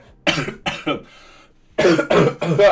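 Several sharp coughs from eating chilies, in two bursts, close and loud, with a short quiet gap and a faint wheezy breath between them.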